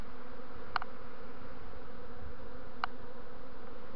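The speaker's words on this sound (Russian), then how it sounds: "Вокруг пчела особо не собирается садиться на место." Bees from a swarm in a hollow linden tree trunk make a steady, fairly faint droning buzz outdoors, with two brief tonal chirps standing out above the continuous hum.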